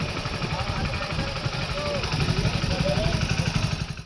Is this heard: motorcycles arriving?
yes